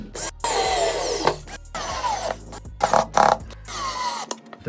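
Screws being driven into the frame of a Sleep Company electric height-adjustable desk during assembly, heard as several close, loud bursts of power-tool whirring and grinding with short pauses between, over a low steady hum.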